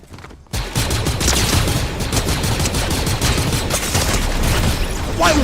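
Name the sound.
gunfire in a video game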